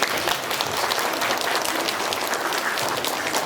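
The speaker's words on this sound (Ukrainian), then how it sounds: "Аплодисменти!" A crowd at a New Year school event for first and second graders applauds warmly, with many hands clapping in a steady, full burst that holds at an even level.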